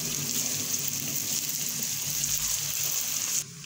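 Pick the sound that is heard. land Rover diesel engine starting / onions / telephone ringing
onions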